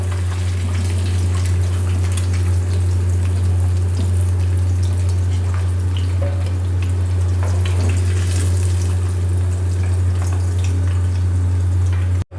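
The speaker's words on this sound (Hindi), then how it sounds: "कबाब हमारे अच्छे से फ्राई हो गए।" Beef seekh kebabs fry in hot oil in a fry pan with a steady, close sizzle and fine crackle, accompanied by a constant low hum throughout, no voices.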